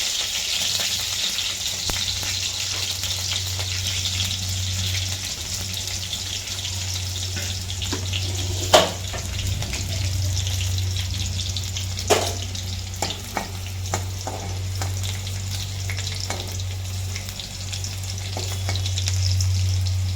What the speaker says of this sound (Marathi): इथे तेल छान असं गरम झाले तर आपल्याला पहिल्यांदा मिरची टाकायची